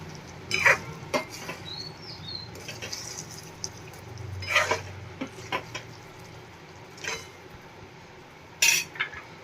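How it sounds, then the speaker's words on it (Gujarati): A spoon scrapes and clinks against a pan while boiled potatoes are mixed with lemon juice and spices for Kathiyawadi bhungla bataka, making irregular metallic taps over a soft, steady background. "એકદમ સરસ મિક્સ કરી લઈએ બધા બટેટા"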